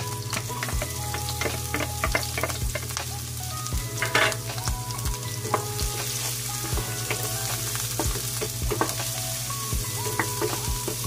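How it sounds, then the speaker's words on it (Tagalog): Garlic sautéing in hot oil in a pan for a bok choy stir-fry, a steady close sizzle with crackling pops and occasional utensil scrapes and stirring, loud and continuous with no voices. "Sunod, ilagay na natin yung ating bawang."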